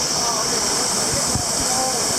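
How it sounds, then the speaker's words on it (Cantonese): Water rushes over the first waterfall in the Kwai Nau Hang stream gorge, a loud, steady roar of falling water that fills the whole clip, with people talking faintly beneath it. "第一個瀑布"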